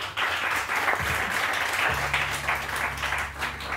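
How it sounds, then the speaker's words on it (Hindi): Applause from an audience at a gathering, a steady dense patter of many hands clapping throughout, with a low hum underneath and no clear talk. "तो तालियां हों।"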